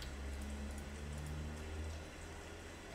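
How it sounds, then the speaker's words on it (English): Steady hiss of rain falling from rain clouds in a Godot-built video game, continuous and even with a low hum beneath, no talk. "But you can also make rain clouds, and the rain clouds will make the trees grow."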